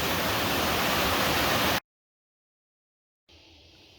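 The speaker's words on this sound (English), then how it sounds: "Our little river coming down." A small river swollen after days of heavy rain rushes loudly beside the N2 highway between Durban and Toti, a dense roar that cuts off abruptly, then returns more softly.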